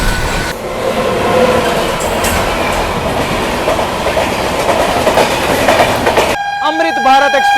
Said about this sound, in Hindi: भाई गाड़ी अपनी फ्लैट 130 भाग रही है।